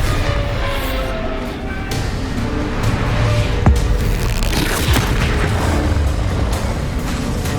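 A booming blast from the Bombarda spell in Hogwarts Legacy on PlayStation, a sharp crack landing within a dense, rumbling wash of low-end game noise that stays loud throughout.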